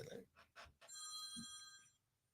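A phone rings with a bright electronic tone lasting about a second, following brief speech and set against quiet room background.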